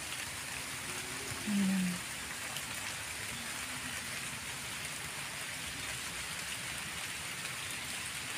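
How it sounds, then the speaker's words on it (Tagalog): Steady heavy rain falls as a constant close hiss throughout, with a short burst of speech near the start. "Pag lumakas yung ulan."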